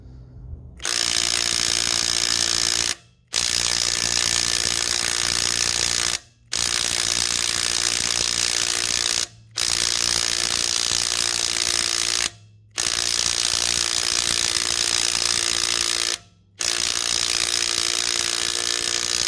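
Loud, rapid hammering rattle of a Makita 18V Blue Edition sub-compact 1/2-inch impact wrench on lug nuts, in repeated bursts of about three seconds, separated by brief pauses.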